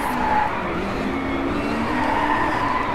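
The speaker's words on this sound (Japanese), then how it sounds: "なんとこの車をパワースライドするぞ" Tires skidding through a power slide in the racing game DRIVECLUB, a loud, continuous screech layered over the roaring engine for the whole stretch, with no talk.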